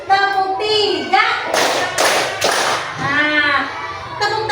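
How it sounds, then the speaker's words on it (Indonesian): A group of people claps hands in an ice-breaking clap game, several loud bursts of clapping with talk from a leader before and between them. "tepuk tangan untuk kita semua"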